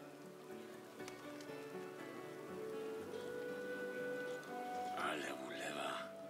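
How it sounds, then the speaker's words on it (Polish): A heavy downpour in the 2007 video game The Witcher drums steadily on surfaces, with a dense patter of raindrops that stays even throughout while game music tones and a voice come through over it. "Ale ulewa."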